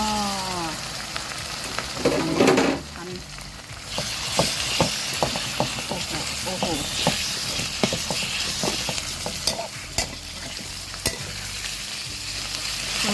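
Pork belly frying with Shan pickled mustard greens in a pan, a steady close sizzle with repeated stirring scrapes and clicks of a utensil, no talking.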